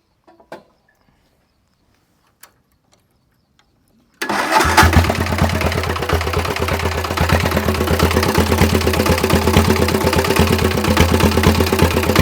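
Homemade motorcycle engine starting after near silence, then running steadily with a loud, rough, rapid chugging idle that continues to the end.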